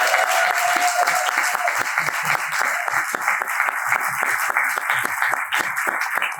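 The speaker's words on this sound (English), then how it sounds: "Round of applause." Sustained audience applause for the team behind a Black History Month history map, a dense, steady wash of many hands clapping that carries on without a break for the whole stretch.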